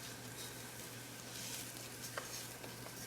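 Jasmine rice tipped into a pan of half-cooked onions hisses in a soft, steady sizzle, quiet and close, with faint stirring ticks and no talk.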